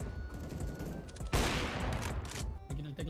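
A burst of rapid, crackling gunfire in a competitive shooter game, loud and close for about a second amid steady game noise, with fainter shots before and after.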